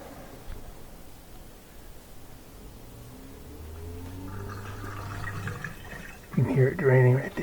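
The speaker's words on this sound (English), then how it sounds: "You can hear it draining right there." A Bosch dishwasher drains its water during a reset, a low gurgling rush that builds into a louder sloshing flow, with a person's voice audible at the end.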